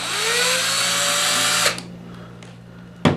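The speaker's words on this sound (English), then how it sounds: "I'll remove this screw right here, and that goes to the positive side of my battery" A power drill whirs for about a second and a half while backing out the positive battery terminal screw on a jump box, rising slightly in pitch, then stops, followed by quiet and a short final burst.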